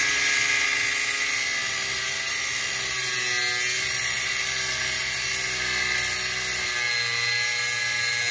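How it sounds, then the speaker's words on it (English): An angle grinder with a cutting wheel works on wheel studs, giving a loud, steady high-pitched whine that holds nearly unchanged throughout. "the grinder is out"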